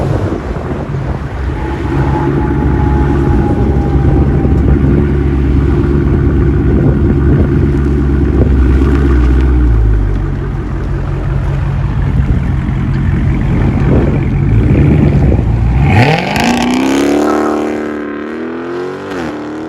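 The exhaust of a 2016 Dodge Charger 392 HEMI with a 6.4L V8 booms with a loud, deep, sustained idle rumble, then sweeps up in a sharp rising rev near the end, with heavy wind buffeting on the microphone.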